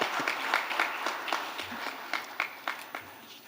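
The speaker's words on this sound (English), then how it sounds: "Shall we please receive him with a round of applause?" Scattered, uneven hand claps ring out from a small congress audience, thin and irregular rather than a full roar, heard from a distance.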